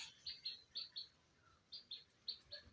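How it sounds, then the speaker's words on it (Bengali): Birds call in a village countryside, a series of short high chirps repeating in an even rhythm, fairly faint and at some distance, with no talk. "চারিপাশে কোকিল ডাকে"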